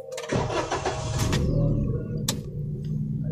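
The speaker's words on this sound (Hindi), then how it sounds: "सामने मुअत्तर भाई की गाड़ी आ गई है" A car arrives with its engine running, a mid-pitched motor rumbling steadily nearby with a few sharp clicks and bumps over it, and no talk.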